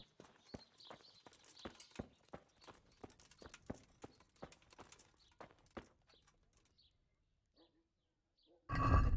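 Horse hooves clip-clop at a walking pace in the medieval game Kingdom Come: Deliverance, steady and close, then thinning to a few scattered steps before a sudden loud burst of noise at the end.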